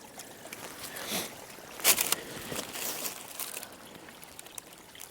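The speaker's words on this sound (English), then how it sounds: "And the water running, yeah, trickling through the moss." Water trickling through moss at the head of a very small mountain stream, a soft continuous gurgle and splash with small bursts, fairly close, no talk.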